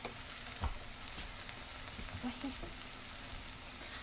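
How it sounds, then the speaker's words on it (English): Salt being stirred into a sizzling Thanksgiving side dish in a pan: a soft, steady frying hiss with a few faint scrapes of stirring, fairly quiet throughout. "now I put the salt and I'm mixing it around for a few seconds"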